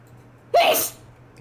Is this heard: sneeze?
yes